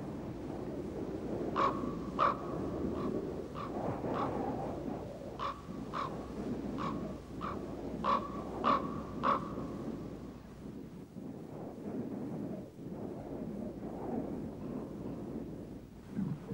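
Harsh croaking raven calls repeat in an irregular series over a steady low rumble in the Colorado River valley, then fade, leaving only the rumbling background.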